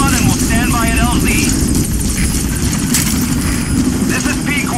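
A support helicopter in Metal Gear Solid V: The Phantom Pain arrives at the landing zone, its rotor chop and engine drone loud and constant under radio chatter and voices.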